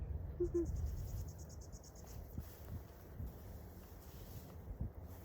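Steady low rumble of wind buffeting outdoors, with faint high insect chirring in the background and no voices.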